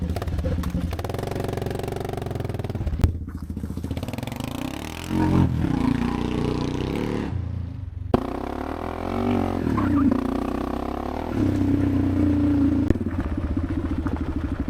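Kawasaki KLR650 motorcycle engine, freshly swapped in after the old one blew, idles with a steady low chugging throb, close and continuous, with a couple of brief revs and small clatters along the way.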